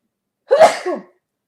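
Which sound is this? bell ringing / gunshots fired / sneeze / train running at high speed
sneeze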